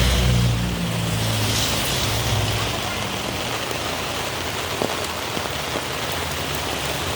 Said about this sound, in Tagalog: Napakalakas po ng ulan mga idol.